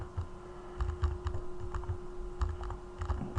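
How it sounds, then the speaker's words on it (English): Someone types a password on a computer keyboard in short bursts of close, clicky keystrokes with brief pauses, over a faint steady electrical hum and no talking. "I'm going to type in the password again."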